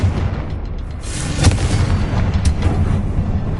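A Confringo spell explosion in Hogwarts Legacy goes off as a loud, booming burst with a sharp crack, followed by a rumbling tail and a second smaller pop.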